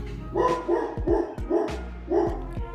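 A puppy dog barks at someone at the door in a house, five sharp close barks in an uneven rhythm, loud and clear, with no voices over them.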